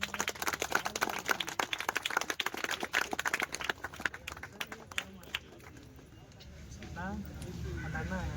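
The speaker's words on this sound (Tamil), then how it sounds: "எல்லாம் கைத்தட்டு" A crowd at an outdoor street-corner political meeting in Kakkalur claps steadily for several seconds, then the applause fades as a voice takes over.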